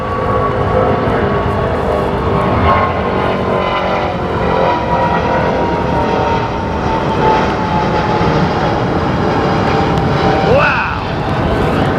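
A heavy jet airliner takes off at Heathrow Airport, its engines producing a loud, sustained roar with whining tonal layers, steady and close throughout and slowly shifting in pitch as it passes.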